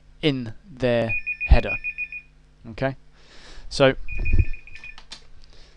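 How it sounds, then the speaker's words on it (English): A phone rings in repeated electronic trills, two bursts heard behind and between a man's close-up speech. "excuse the phone there."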